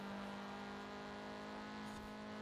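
Track car engine in a racing video game holding a steady, sustained drone with a strong hum as it climbs a hill on the final lap, loud and continuous with no talk.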